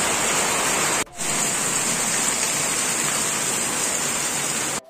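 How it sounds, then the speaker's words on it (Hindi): Rain pours outdoors as a loud, dense, steady hiss of drops on surfaces, cut by a brief gap near the start and again at the end. "और देखो बारिश शुरू हो गया"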